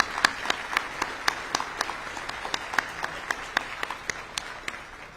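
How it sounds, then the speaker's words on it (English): At a 2023 Small Business of the Year awards ceremony, the audience claps in a sparse, fairly thin round of applause, with distinct sharp claps landing in a steady, even rhythm throughout. "let's give one last round of applause to Patriot Auto"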